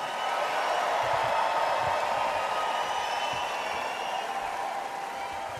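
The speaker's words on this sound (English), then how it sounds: "Let me hear you cheer if you support Israel." Large convention hall crowd at the Republican National Convention in Milwaukee cheering in support of Israel, a loud, sustained roar of massed voices that stays steady throughout and eases slightly toward the end.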